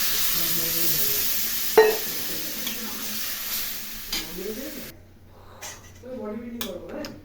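Steady, loud sizzling hiss as water hits a pan of fried rohu fish head, fish pieces and bori lentil dumplings, with a sharp burst partway through. A voice talks over it, and the hiss cuts off abruptly before the end.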